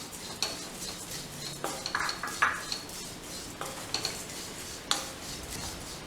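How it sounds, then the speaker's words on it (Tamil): Wheat flakes (aval) being roasted and stirred in a kadai, a metal spoon scraping and clinking against the pan in irregular knocks while the dry flakes rustle softly underneath, close and fairly quiet. "இப்போ நான் அதே கடாயில் அவலை போடுறேன்."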